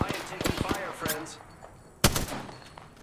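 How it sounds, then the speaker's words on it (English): Gunfire in the video game Apex Legends, a run of sharp bursty shots in the first second followed by a single loud crack near the two-second mark, with faint game noise between. "I am taking fire, friends."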